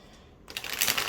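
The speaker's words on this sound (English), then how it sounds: "cardstock feels really easy to shuffle, but very sturdy, not too slippery" Cardstock oracle cards from a Wild Unknown Animal Spirit deck being shuffled: quiet at first, then a rapid, dense riffle of papery flicks that builds and stays steady, close and soft.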